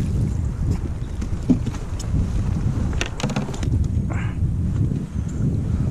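Wind rushes steadily across a lake around a fishing kayak, a loud, constant buffeting roar against the microphone with a few faint knocks and splashes, and no voices.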